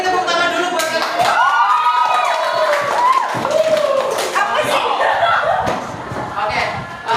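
A classroom of students claps and cheers, with rapid applause mixed with excited voices and shouts that stay fairly loud throughout.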